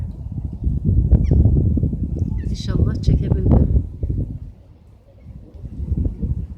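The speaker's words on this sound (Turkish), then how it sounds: "hava da çok rüzgarlı." Strong gusts of wind rumble and buffet the microphone throughout, with someone speaking briefly over the blustery noise.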